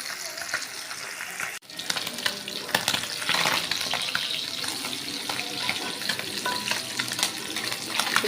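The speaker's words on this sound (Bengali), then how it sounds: "তেলগুলো গরম হয়ে গেছে, পুঁটি মাছটা ছেড়ে দিচ্ছি" Small puti fish dropped into hot oil, giving a loud, dense, continuous sizzle and crackle that jumps in abruptly after a short break and stays steady and close.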